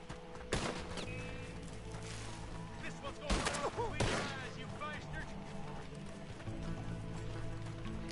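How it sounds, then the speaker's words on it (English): Gunfire in a video game, with sharp shots and a burst of rapid fire cracking over steady background game noise, alongside hoof-like clopping and someone talking now and then. "they're firing at me already?"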